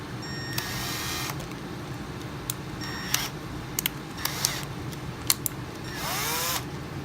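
A drill spinning a shotgun firing pin tube from a Remington 870 whines in short, intermittent bursts over a constant mechanical hum, with sharp clicks between the spins.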